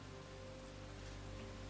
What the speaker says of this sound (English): And now it's raining shit